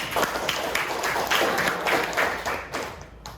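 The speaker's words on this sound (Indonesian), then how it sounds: "Tepuk tangan untuk kita dulu." A classroom group claps together in a burst of applause lasting a few seconds, close and fairly loud, fading slightly toward the end.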